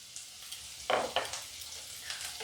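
Cauliflower frying with turmeric and salt gives a quiet, even sizzle, broken by a couple of brief scraping stirs in the pan, with no voices.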